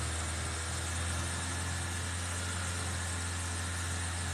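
A 2008 Toyota Avanza engine treated with Blackcore engine flush runs close by with a steady, heavy low hum and buzz. Its level holds even throughout, with no clear rise in revs.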